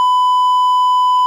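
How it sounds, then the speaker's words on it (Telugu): A steady electronic censor beep, a pure tone held for just over a second, loud and alone, dropping a word from a Telugu political commentary about TDP leaders. "అక్కడ బీప్ వేశారు"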